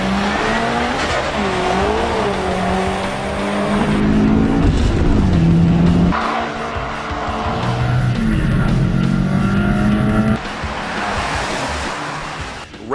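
Tuned Subaru STI race car with Cosworth and HKS parts, roaring and revving loudly close by, with shifting engine pitch, a brief tire squeal and steady broadband rush throughout.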